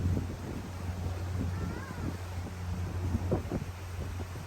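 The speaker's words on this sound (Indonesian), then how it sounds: "Enak nih, anginnya kenceng." Strong wind blows across a Malacca River cruise boat, a continuous rushing buffet over a low engine drone, with brief louder gusts and no clear talk.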